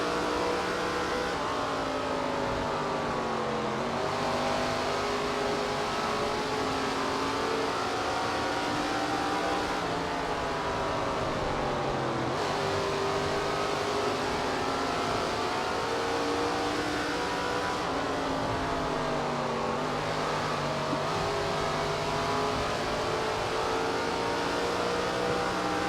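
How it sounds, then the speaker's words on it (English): A stock car engine at Stafford Speedway revs continuously, its pitch swinging up and down as the throttle is blipped and held in repeated cycles; loud and steady throughout, with no talking. "you guys can listen to me play with the throttle here"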